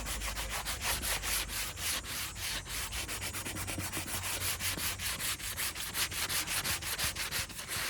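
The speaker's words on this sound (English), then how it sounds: "I'm just going to give it a light sand." Sandpaper rubs lightly by hand across a wooden piece being prepped for spar urethane, in steady, evenly spaced back-and-forth strokes that fill the clip with close, gritty scratching.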